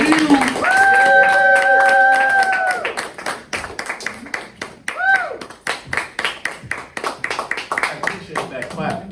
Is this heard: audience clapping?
yes